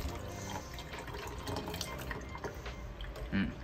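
Tap water runs in a dormitory kitchen in Arizona, known for poor water quality, a faint, steady splashing trickle with light dripping that stays continuous for a few seconds, with no one talking.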